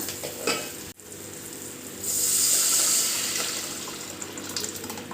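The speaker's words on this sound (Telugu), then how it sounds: "కొన్ని నీళ్ళు వేసుకుందామండి ఇందులోకి" Water splashes and pours into a pot of toor dal drumstick rasam, a brief knock near the start, then a louder steady stream that slowly tapers off.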